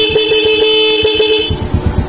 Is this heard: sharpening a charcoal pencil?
no